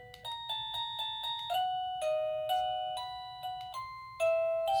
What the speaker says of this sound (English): doorbell chimes.